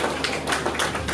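An audience at the Airtel Nigeria 4G LTE network launch event in Lagos applauds in a brief, fairly close burst of clapping with uneven peaks.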